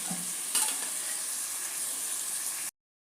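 Capsicum and mixed vegetables sautéing in a pan for veg biryani, a steady close sizzle with a faint stirring scrape near the start, ending abruptly in silence.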